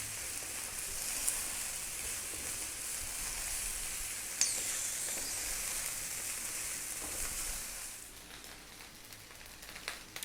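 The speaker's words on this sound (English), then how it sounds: "That is your rice frying." Rice for special fried rice sizzles and crackles steadily in a hot wok for a Chinese takeout recipe, a dense continuous hiss with a couple of sharp pops before easing off near the end; no one talks.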